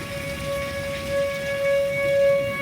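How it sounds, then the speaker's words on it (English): An outdoor tornado warning siren in Oklahoma City wails steadily at a distance, its sustained tone slowly swelling and fading, over a soft, rain-like background hiss. "I can hear the tornado siren from here. It's been going off for the last minute."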